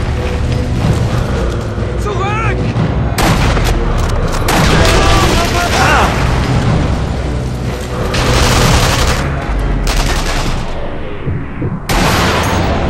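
Loud rifle shots and blasts from the Sniper Elite V2 video game, several sharp bangs with mechanical clatter over a dense game soundtrack, with a voice talking at points.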